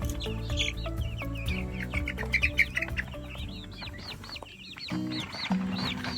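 Several chickens cluck and chirp softly at a moderate distance around a chicken tractor on grass, a busy overlapping chatter of calls, with a low steady hum underneath.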